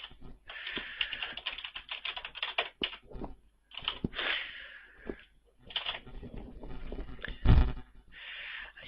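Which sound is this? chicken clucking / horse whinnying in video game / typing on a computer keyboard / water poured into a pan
typing on a computer keyboard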